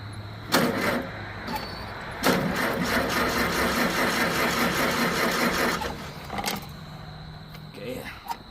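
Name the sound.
old tractor engine starting and idling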